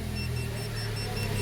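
A dashboard temperature alarm in a Ford Fiesta running on ethanol, set for 110 degrees, beeps in a steady repeating pattern of short, faint high tones over the low, constant hum of the running engine.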